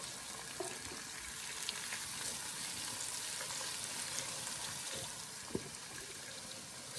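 Garlic sautéing in a pan for seafood gumbo, stirred with a wooden spoon, a soft continuous sizzle with faint scrapes and a few light knocks, fairly quiet and steady.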